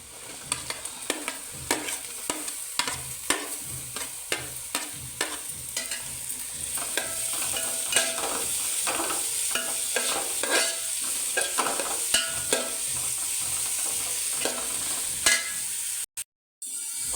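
Chopped onion stir-fried with clam meat in a pan for a Kerala-style clam stir fry, with repeated scraping strokes of a spatula over a continuous close sizzle and no talk.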